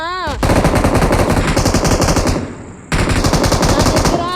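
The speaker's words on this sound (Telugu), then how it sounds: "మిషన్ గన్ ఉంది. అదిగో ఒకరిని కొట్టేశాను కూడా." Loud, sustained machine gun fire in a shooter video game, rapid bursts running continuously with a brief drop in intensity near the middle before resuming at full strength.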